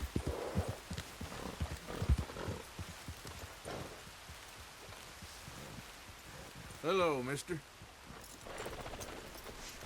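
Horse hooves clip-clop across ground in Red Dead Redemption 2, a steady patter running under game ambience with a brief spoken greeting and a short voiced interjection partway through.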